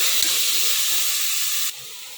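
Brinjal roasting with salt in a pan gives a steady, bright sizzling hiss that drops abruptly in level near the end, with a couple of faint clinks underneath.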